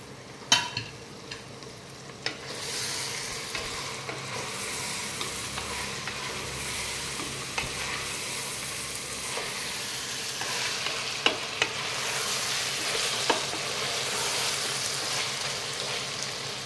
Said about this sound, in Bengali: ভেজিসগুলো খুব ভালো মতো ফ্রাই হয়ে গেছে